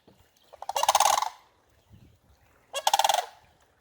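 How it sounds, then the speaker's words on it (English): Pair of sandhill cranes in a riverside marsh near Dunnville on the Grand River, giving two loud rattling, trumpeting calls, the first longer and the second shorter, with quiet pauses between. "Hidden in this marsh here, I can see a pair of large birds, which I believe are sandhill cranes."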